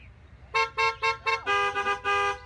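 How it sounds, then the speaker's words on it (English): A car horn honks outdoors after a Sunday church service, four short blasts and then a longer run of quick toots, loud and close with no talking over it. "A couple of honks."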